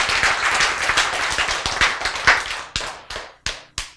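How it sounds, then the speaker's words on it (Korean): An audience at a Korean lecture bursts into dense clapping that thins out into a few separate, sharp claps near the end. "박수!"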